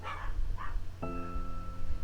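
A small dog barks in the background, two short yaps near the start followed by a sustained whining tone, heard with no speech over it.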